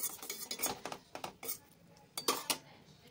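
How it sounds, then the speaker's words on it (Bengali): A spatula stirs thick sugar syrup in a pan of chhena jalebi, giving a run of close metallic scrapes and clinks in irregular bursts, with two sharper knocks near the end. "এবার ঢাকনাটাকে খুলে একটু নেড়ে চেড়ে দেবো একটা খুন্তির সাহায্যে।"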